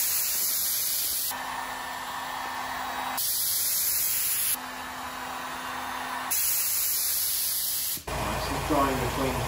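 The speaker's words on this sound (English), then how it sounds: "Let's go spray gun." A spray gun paints a surfboard during a repair, giving a steady close hiss that runs in long passes broken by short pauses, ending with some rustling handling noise.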